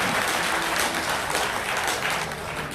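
A large crowd at a political party event claps with hands raised, a dense, even roar of applause sustained from start to finish.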